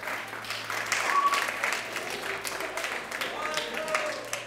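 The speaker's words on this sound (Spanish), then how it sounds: "¡Un aplauso fuerte!" Studio audience applause on a TV quiz show, a moderate, steady round of clapping at middle distance, with a voice speaking over it.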